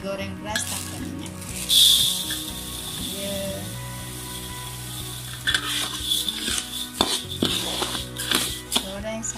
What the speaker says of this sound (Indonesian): Goreng beras tanpa minyak.